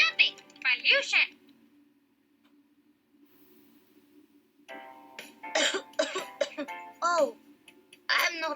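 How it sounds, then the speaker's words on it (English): A person with a pollution-related cough in a short classroom role-play coughs a few times up close, then goes quiet for a few seconds before a voice talks and more coughs and throat clearing break in. "Since evening, I'm coughing a lot."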